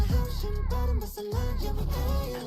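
Song instrumental with steady ticking percussion and small bell-like chimes over a full, layered backing mix, playing continuously at moderate loudness with no talking.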